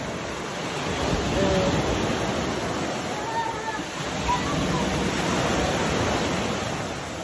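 Waves at Little Boracay beach in Santa Maria at high tide, a steady broadband wash of surf, loud and continuous, with faint voices mixed into the roar.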